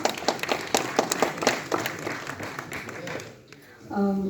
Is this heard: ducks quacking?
no